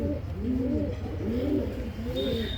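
Pigeons coo in a loft, several soft rolling calls overlapping close by in a steady low murmur, with a faint thin tone near the end and no talk.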